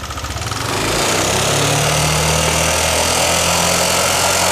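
A Yamaha NMAX scooter engine revs up under throttle with a tensioner fault, a loud, steady, rattling clatter that rises within the first second and holds near the microphone.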